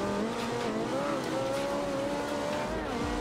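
White Italia car drifting in Forza Horizon 2, its engine a steady sustained whine with shifting pitch and continuous tire noise, loud and unbroken throughout.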